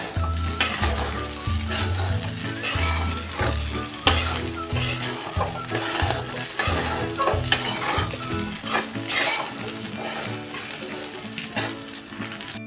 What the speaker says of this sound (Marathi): अजून एकदा परतून घेऊया